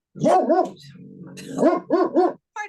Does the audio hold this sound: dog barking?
yes